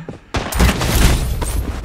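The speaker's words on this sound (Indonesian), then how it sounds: "Tapi di belakang kita ada suara tembak-tembakan, guys." Bursts of gunfire in the mobile shooter Blood Strike, a brief quiet gap before loud, sustained shooting sets in and continues densely, with sharper individual cracks standing out near the end.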